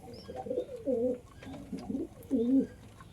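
Pigeons cooing close by as they wait to be given water in the rainy season, several soft throaty coos repeating in a loose rhythm, with little else around them.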